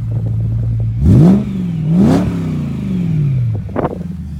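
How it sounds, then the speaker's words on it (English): A 2007 BMW E92 M3 engine idling, then revved hard twice in quick succession with a loud rising exhaust roar, settling back down before a final short blip. "Let's listen to that exhaust."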